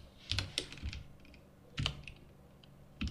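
Bursts of keystrokes on a computer keyboard, a few quick clusters of clicky taps with short pauses between, close and fairly faint, typing a pip install command for Panda3D in a terminal.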